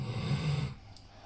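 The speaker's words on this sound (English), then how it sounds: "we have the dog from my father-in-law. We are dog sitters at the moment, and he's sleeping quite loudly." A dog snores in low, rumbling breaths close by, the snore trailing off into quiet breathing partway through.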